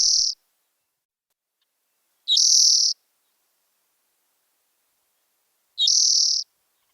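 Birds calling from bushes in open grassland in winter at Monte Bello Preserve: three short, loud high-pitched bursts spaced a few seconds apart, with silence between them and no voices.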